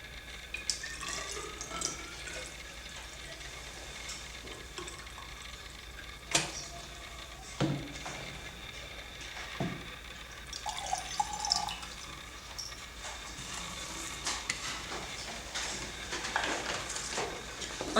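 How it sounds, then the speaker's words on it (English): Tap water running and trickling into a glass beaker in a laboratory, a soft steady flow broken by a few sharp clinks and drips. "And I put water from the tap into it."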